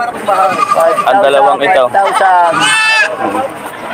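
Goats bleating at a Batangas livestock market, several wavering bleats close by, tangled with someone talking over them.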